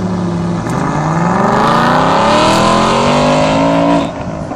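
A race car at the North Weald circuit roars past close by, its engine note rising and sweeping in pitch as it accelerates through, loud and steady before fading slightly at the end.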